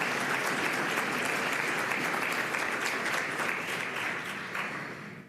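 College audience applauding after a speech by the Attorney General, dense sustained clapping from a large crowd that holds steady and then tapers off toward the end.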